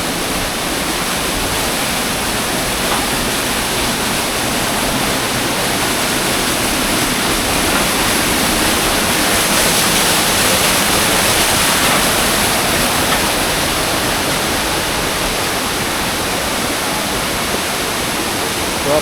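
Ubud Falls waterfall in Maria Aurora, Aurora province, the Philippines, pours with a steady, loud, hissing roar that fills the whole stretch without a break. There are no voices.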